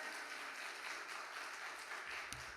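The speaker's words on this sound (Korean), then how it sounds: "나오실 때 우리 할렐루야 하면서 박수로 환영해 주시겠습니다" Church congregation at a Wednesday evening worship service applauding to welcome the pastor, a soft, even patter of many hands clapping throughout, slightly distant, with a small knock near the end.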